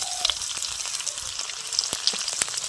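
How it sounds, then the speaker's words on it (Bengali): Chopped green chillies sizzling in hot oil with cumin and asafoetida, a steady close crackling hiss dotted with sharp little pops, no voices. "কাঁচা লঙ্কা কুচি দিয়ে দিচ্ছি"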